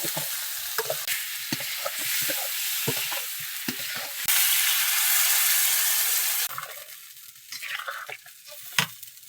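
Spiced taro curry sizzles in a pan as water is poured in, a loud surge of hissing in the middle, framed by scraping and clattering stirring strokes before and after.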